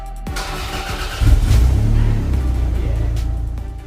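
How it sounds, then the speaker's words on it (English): A Toyota MR2 SW20 engine cranks briefly and fires up, its loud close engine note swelling and then settling into a rough running rumble, with no talk. "and started the engine."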